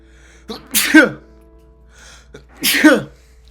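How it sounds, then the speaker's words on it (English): Two sharp sneezes from one person, close and loud, about two seconds apart, each with a quick inhale before the burst. "got caught by the sneeze demon"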